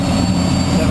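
A helicopter turbine engine spinning up during start makes a loud, close roar with a high whining tone above it, under faint speech-like sounds.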